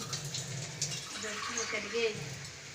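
Water gushes and splashes into a cooking pot nearby, a steady pouring sound while a person talks over it.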